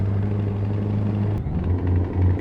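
A Scania R-S truck engine in Euro Truck Simulator 2 hums as a steady low drone. It dips briefly at a gear change, then comes back with pulsing revs at a higher pitch.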